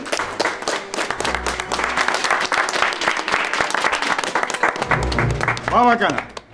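A crowd gives sustained, dense applause to greet a political party co-founder at a party gathering. The clapping fills the whole moment, with voices and someone speaking over it.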